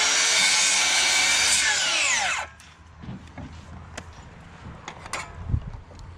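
A power saw screams loudly through roof framing lumber on a deck and screen porch build for over two seconds, then winds down and stops, leaving quieter knocks and handling sounds.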